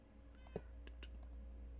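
A cat meows in the Minecraft video game, two or three short, soft calls spread through the clip over a steady low background hum.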